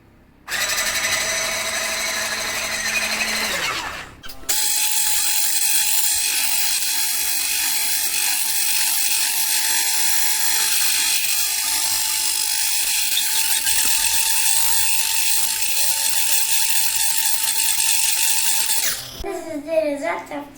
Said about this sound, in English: This is the result after doing it with the hand mixer.